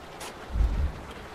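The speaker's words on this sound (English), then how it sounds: "Oh, and it's raining." Rain falls in the truck-driving game Euro Truck Simulator 2 as a soft, steady hiss, with a brief low rumbling thump partway through.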